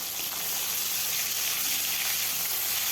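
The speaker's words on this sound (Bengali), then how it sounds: "মাছের মাথাগুলো এখন ভেজে নেব" Hilsa fish heads fry in mustard oil in a wok, producing a loud, continuous close-up hiss and sizzle with no pauses.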